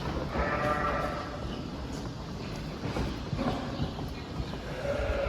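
Four-month-old female Merino breeding lambs bleat repeatedly over a steady hum from a nearby crowded flock, their calls overlapping at moderate distance with no talk.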